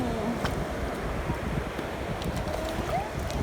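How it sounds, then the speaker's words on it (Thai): Strong wind buffets a beach, a steady loud roar of gusts and microphone rumble with surf washing underneath, continuous throughout with no voices. "ลมแรงมาก"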